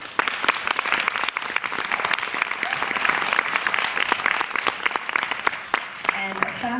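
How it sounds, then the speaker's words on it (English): An audience at an African diaspora dance performance breaks into sustained, dense applause that stays loud throughout, with a voice faintly audible beneath the clapping near the end. "A round of applause, please."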